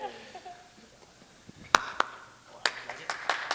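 A handful of scattered, uneven claps from an audience at a high school weather-themed game show, sharp and separate rather than a full round of applause, with faint voices near the start.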